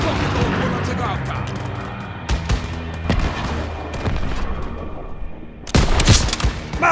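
Rapid gunfire in Call of Duty: WWII crackles and pops in dense bursts amid a loud battle soundscape, with sharper close shots near the end.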